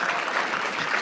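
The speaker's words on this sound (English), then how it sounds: "Should reserve your applause for the honored guest" Audience applause at a political meet-and-greet event in Halifax, Nova Scotia: a dense, continuous roar of many hands clapping, even and fairly loud, with no speech over it.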